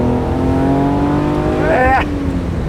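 A 1971 Fiat Dino 2400 Spider with Ferrari-derived engine pulls hard, its steady droning tone climbing in pitch, then a sharp rise as revs build before easing off, heard close and loud.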